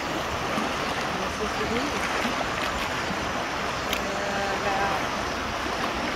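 The New River rushes around a rock where a paddler holds position, a steady close wash of flowing water with someone talking briefly over it.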